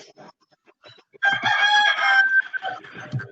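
Rooster crowing over an open microphone during an online session, a single loud, close crow of about a second, followed by softer clucks, with faint voices and room noise before it.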